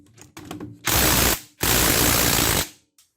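A power tool, likely an impact wrench or ratchet, whirs in two long, loud bursts as bolts come out of a Kemimoto bumper bracket on a CFMOTO ZFORCE 950 HO EX, with brief clicks before and after.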